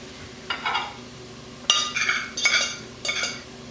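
Baked potatoes are mashed in a bowl, heard as a few separate bursts of scraping and clinking of a utensil against the bowl, close and fairly quiet, with short pauses between strokes.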